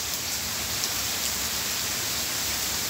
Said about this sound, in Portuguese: E é uma pancada de chuva passageira, mas uma chuva forte.